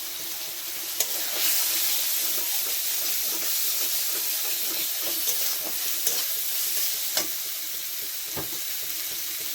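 Spices and ginger paste stir-frying in a pan for homemade biryani make a dense, continuous sizzle and hiss, with scraping stirs and light knocks scattered throughout.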